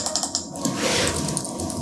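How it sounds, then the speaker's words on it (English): Typing text on a computer keyboard: a rapid run of light, close key clicks over a steady background hiss, with no talking. "we write a nice text."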